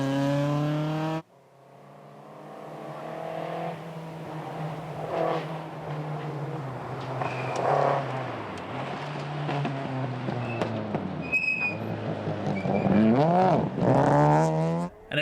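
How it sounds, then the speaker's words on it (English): Rally car at a New Zealand gravel rally event with its engine not running clean at low revs, a rough, uneven drone that shifts pitch as it revs up and down, loud and close throughout with a brief gap near the start. "it sounds like they're just not getting that car to run clean from the low end."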